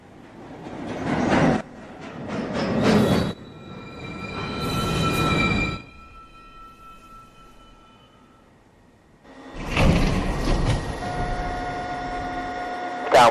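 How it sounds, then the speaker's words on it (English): NYC subway train at Fulton Street station, the 1 and 2 lines, heard as bursts of rumbling rail noise with screeching brake tones, a quieter lull, then a loud sustained roar of the train arriving close by. "Approaching the station, please stand away from the platform edge."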